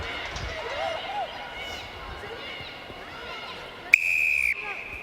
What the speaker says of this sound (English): Loud blast on the whistle